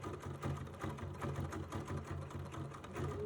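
A sewing machine stitches down couched fibers along flower petal shapes, running steadily at close range with a fast, even mechanical chatter and no voices.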